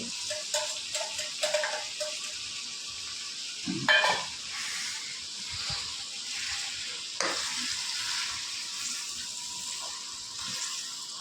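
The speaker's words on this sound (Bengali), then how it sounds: "মশলাটা ভালো করে কষা হয়ে গেছে" Spices and dried chillies sizzling and frying in a pan with tomato while being cooked down for chicken curry, a steady close hiss with occasional stirring scrapes, heard alone.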